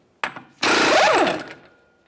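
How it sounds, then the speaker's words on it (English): A hammer drives a punch against the center of a rear CV axle on a 2007-2013 Acura MDX to free it from the hub: one sharp metallic strike, then a longer ringing clang that fades out. "a hammer and punch directly in the center of the axle to break it free from the hub located behind it"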